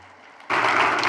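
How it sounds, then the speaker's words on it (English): Applause for phone volunteers at a ten-year anniversary celebration begins abruptly after a quiet moment, a dense crowd of hands clapping loudly and steadily to the end. "Let's give the phone volunteers a round of applause."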